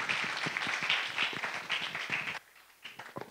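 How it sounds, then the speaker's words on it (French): Panel audience at a community day event gives a short round of applause, moderately dense clapping for a couple of seconds before it stops abruptly, leaving faint scattered taps. "On applaudit une fois de plus"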